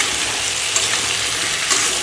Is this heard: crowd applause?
no